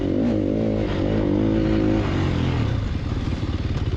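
A Sherco 300 SEF dirt bike engine is held on the throttle during a race, a loud close snarl that keeps revving and pulsing with a throbbing exhaust beat.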